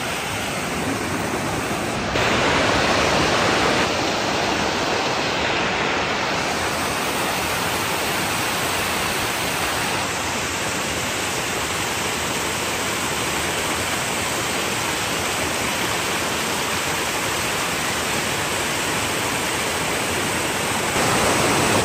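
A waterfall at La Vie Adventure Trails in Bongabon, Nueva Ecija, heard from a nearby bridge, gives a constant loud broadband rush of falling water with no voices over it.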